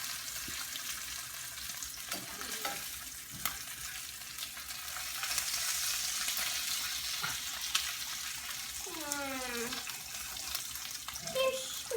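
Food frying in a pan right after being flipped, a steady close sizzle that swells in the middle, with scattered clinks and brief voices around it.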